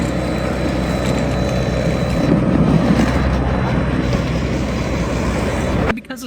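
A PowerSmart 80V cordless snow blower runs close by with a steady, loud broadband whir and rumble that holds for about six seconds, then cuts off abruptly near the end.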